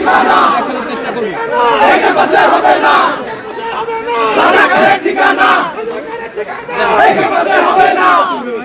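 A large crowd at the DUCSU student union election in Dhaka chants slogans loudly and rhythmically in repeated call-and-response waves, with voices close and continuous throughout.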